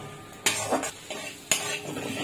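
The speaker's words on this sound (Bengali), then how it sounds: "মশলা দিয়ে ভালো করে কষিয়ে নেব" A ground spice paste for paneer curry is stirred in a hot pan, with two sharp metal scrapes of a spoon against the pan over a light, steady sizzle, close by with no voices.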